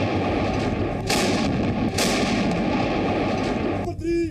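Heavy artillery shelling and gunfire roar at the Kargil front during the war, a dense continuous barrage of blasts and booms with a few sharper reports, loud and close, with a faint voice under it.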